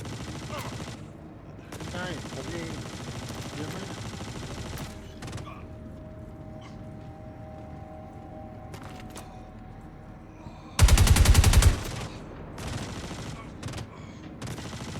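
Rapid gunfire in the space game Star Citizen rings out in a loud automatic burst near the end, with sparse clicks and mechanical sounds earlier under quiet speech.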